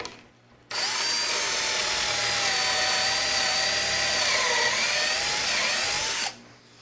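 A power drill whines steadily for about five seconds, boring pocket holes into MDF at a high, even pitch, then cuts off abruptly.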